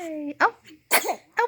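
A baby's small sneeze, one quick burst amid an adult's soft cooing voice close by.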